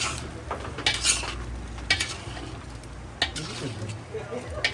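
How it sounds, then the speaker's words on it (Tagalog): Chop suey with soy sauce is stirred in a pan, with close, repeated clanks and scrapes of a utensil against the pan over a low sizzle, in a few separate bursts. "lagyan natin siya ng toyo. Chopsoy dalagi sa apo. Then, haluin natin siya guys."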